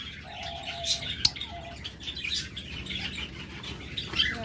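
Pet lovebirds or budgerigars in pairs kept for sale give scattered short chirps and tweets over a low, steady background murmur.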